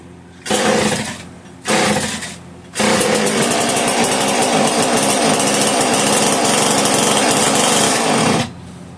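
Homelite 150 chainsaw engine starting: two short bursts of running that die out, then it catches and runs steadily at a loud high buzzing idle for several seconds before cutting off.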